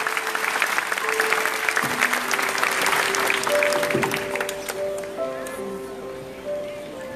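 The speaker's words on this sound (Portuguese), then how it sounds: "Uma salva de palmas para todos os nossos leigos e leigas." A church congregation in Rio de Janeiro breaks into sustained applause for the diocese's lay men and women, dense and steady before thinning toward the end, with a few voices and tones underneath.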